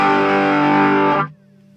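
A Gibson Les Paul Deluxe played straight into a 1987 Marshall JMP50 with an attenuator roars with heavy distortion and sustained feedback howl, loud and dense, then cuts off abruptly, leaving a low residual hum.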